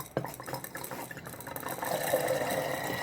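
Corn kernels are poured into a jar of water, making a steady, close pouring and filling sound that builds into a continuous liquid rush toward the end.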